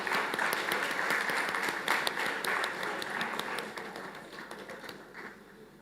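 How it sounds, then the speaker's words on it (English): Audience applause at a college graduation ceremony: many hands clapping steadily in a large room, dense and sustained, then slowly thinning and fading toward the end. "Put your hands together."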